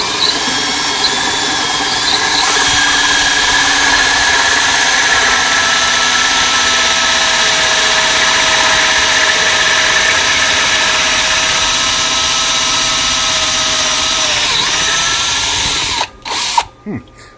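A drill bores a pilot hole into a piece of cork with a loud, sustained whining motor and squeal. It runs steadily for about sixteen seconds, then stops abruptly with a few short bursts.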